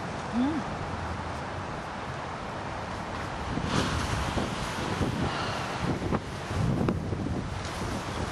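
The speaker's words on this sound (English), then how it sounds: "Ooh, look at the waves." Ocean waves wash and break against the shore under gusty wind buffeting the microphone, a continuous roar that swells in the middle, with brief faint voices.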